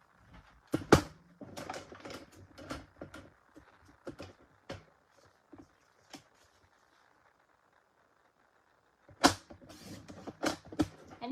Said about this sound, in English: now we gotta cut one more time